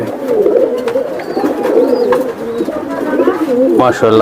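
Soft, steady racing pigeon cooing continues throughout, blended with background chatter and a few faint higher bird calls.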